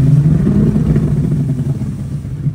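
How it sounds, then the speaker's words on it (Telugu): A speedboat with a Yamaha outboard engine runs at speed off Pattaya, Thailand, carrying passengers out to a parasailing spot; its loud, close, steady engine drone with a deep rumbling hum continues throughout, with no voices. "యమహా ఇంజన్ వేసి కొట్టుడే కొట్టుడు ఇప్పుడు"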